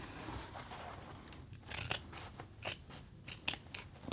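Scissors snipping fabric corners for a bobbin lace bag, a series of quiet crisp cuts, each a short crunching snip, spaced irregularly and heard close up.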